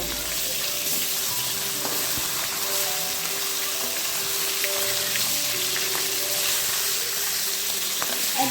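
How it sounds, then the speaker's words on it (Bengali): Continuous loud sizzling and crackling of hilsa fish frying in hot oil, a steady hiss with small pops throughout. "কড়াইতে তেল গরম হয়ে এলে ইলিশ মাছ কাঁচা ভালো লাগলেও আমি একটু হালকা করে ভেজে নেবো"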